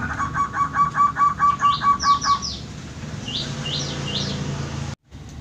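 Zebra doves coo in a rhythmic, repeating series up close, followed by a few quick chirpy calls over a low background hum.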